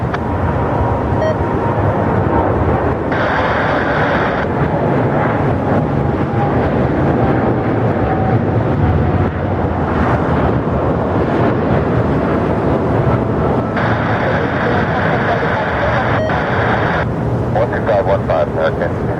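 Aircraft at Incheon Airport: a loud, steady broadband roar of jet engines dominates, with wind buffeting the microphone and a faint higher whine rising briefly at times, and air traffic radio chatter can be heard underneath.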